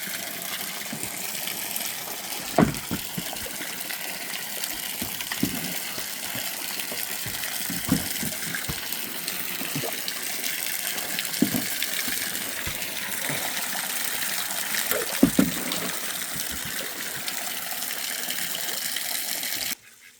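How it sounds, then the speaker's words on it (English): Steady running water gushes continuously while a small duck pond is being cleaned, with occasional splashy sloshing bursts over a constant rushing bed of sound, close by, with no talking. "have the water running, swish this around, and we'll drain it."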